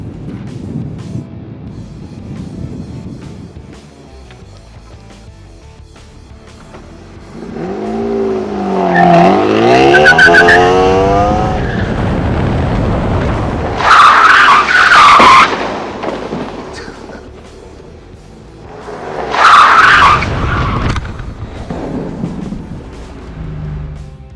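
A 1992 Ford Taurus braking hard in a brake test, engine accelerating then long tire squeals and skids repeated in several runs, loud and close.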